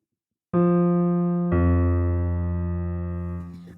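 Two low piano notes, the F below middle C then the F an octave lower, struck one after the other, ringing out together and slowly decaying.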